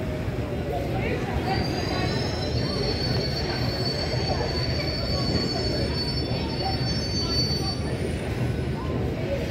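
London train pulling into a station platform with high, drawn-out wheel squeal over a heavy rolling rumble, loud and close, with some murmured talk underneath.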